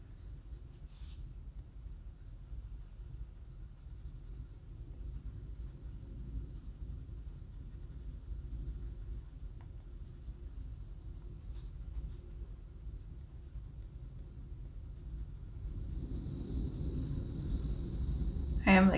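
A colored pencil shades dark green onto paper in a soft, continuous scratchy rubbing, close and fairly quiet, with no speech over it.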